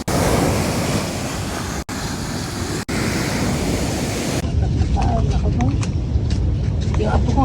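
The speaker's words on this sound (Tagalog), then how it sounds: "So, malakas yung hangin dito sa part na to. And maririnig yun naman sa video." Strong wind at a beach in San Antonio, Zambales buffets the microphone in a loud, steady roar with brief dropouts, easing later as faint surf and voices come through.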